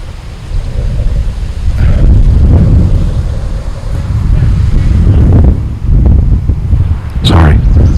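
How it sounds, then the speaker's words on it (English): Strong gusting wind buffeting an outdoor microphone, a loud, rumbling roar that surges and fades in bursts over several seconds. "And I do apologize for the sound of the wind."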